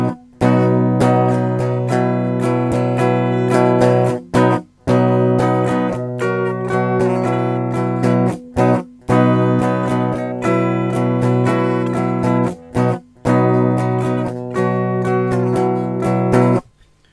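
Close electric guitar plays a punk riff, with a strummed driving chord pattern, pinky-added fills and brief choked gaps, steady and loud with no talking.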